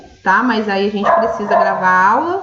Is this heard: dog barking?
yes